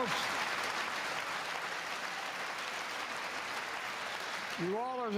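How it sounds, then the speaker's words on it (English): A large crowd in the House chamber applauds during the President's 2023 State of the Union address, a steady, dense wash of clapping that holds for several seconds before a voice begins speaking over it near the end. "Not a great crowd reaction there."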